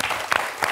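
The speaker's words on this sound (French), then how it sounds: "On peut l'applaudir, André." Studio audience on a French TV quiz show applauds a contestant with a brief, dense burst of clapping.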